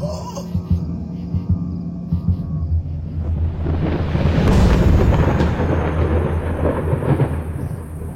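A deep rolling rumble of thunder builds to a loud peak midway, with rain and wind-like roar throughout a stormy soundscape.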